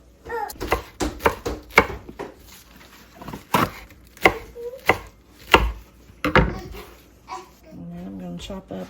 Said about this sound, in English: I got the lettuce washed. I'm just going to give it a rough chop.